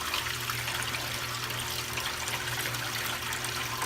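A Panda portable washing machine drains, sending out a steady, fairly quiet rush of flowing water with a low hum underneath, continuous and unbroken throughout.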